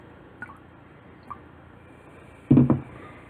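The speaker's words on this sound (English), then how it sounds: "Let's pour some vinegar in and see what happens." Vinegar poured into a glass of baking soda water with corn kernels, giving faint drips early on, then a short burst of wet fizzing and squishing near the end, close and alone.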